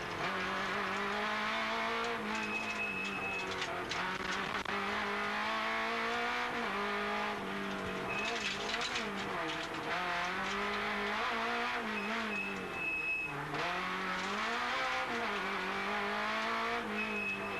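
Onboard a 1993-spec Citroën ZX rally car at the 1994 Rally du Var in France: a loud, continuous engine drone rising and falling through gear changes, with brief high whines, filling the cabin throughout.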